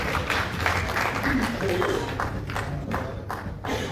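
An audience at an awards ceremony claps to welcome a guest onto the stage, with moderately loud applause that gradually thins toward the end, mixed with shuffling and voices.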